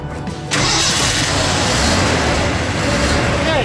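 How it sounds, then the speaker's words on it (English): A truck engine cranks and catches about half a second in, then settles into a loud, steady close-up running rumble that continues to the end. "the truck is now running"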